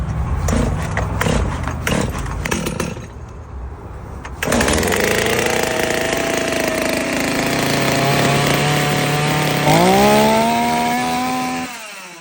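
A Kraissmann 250 petrol chainsaw is pulled to start with a few rough cranking bursts, then catches and runs at a loud, steady idle before revving higher with a rising whine, then cutting off abruptly.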